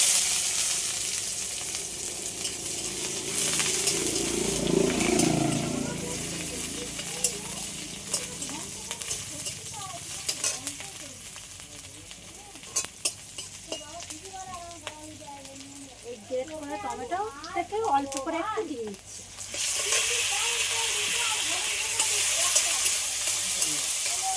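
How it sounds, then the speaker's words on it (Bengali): Chopped onions hit hot oil in a pan for a Bengali curry, sizzling and crackling steadily while a spoon stirs, with a voice talking over the frying. "তেলের উপরে পেঁয়াজ কুচি দিয়ে দেবো"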